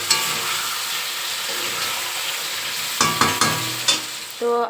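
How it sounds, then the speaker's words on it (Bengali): Meat browning in a pan with spices, sizzling steadily and close up, with a few louder scrapes of stirring near the end as the cooking continues. "এখানে এই যে মাংসটা কষানো হচ্ছে একটু জল দিয়ে দেবো"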